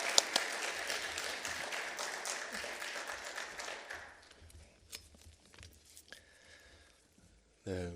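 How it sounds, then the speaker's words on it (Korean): A church congregation claps during a worship service, dense applause that fades out after about four seconds, followed by quieter scattered sounds and a voice starting. "우리가 보내주신 하나님께 감사의 박수를 한번 힘있게 박수 한번 드리겠습니다."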